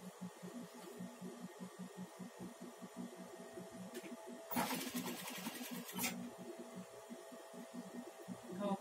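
A sewing machine stitches pleats into a fabric toilet lid cover for a bathroom set, giving a steady, pulsing mechanical whir with an underlying hum and a louder rattling burst midway through.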